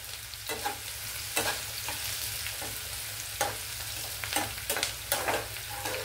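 Sliced onions and coarsely crushed garlic frying in oil in a pan over medium flame: a constant soft sizzle broken by repeated scraping strokes of a spatula, close by, with no voices.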